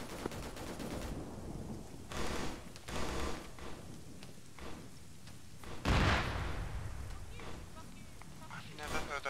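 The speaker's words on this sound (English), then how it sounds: "I've never heard that type of explosion." A loud explosion in the AAF military shooter game bursts out about midway, with broadband blasts and rumbling gunfire around it and voices talking over the combat.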